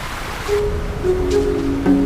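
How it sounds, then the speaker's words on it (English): A waterfall on Jiri Mountain, newly flowing as the ice thaws, gives a broad, steady rushing wash, fairly loud and unbroken, with faint tonal chirps and squeaks scattered over it. "Waterfalls are waking up as well."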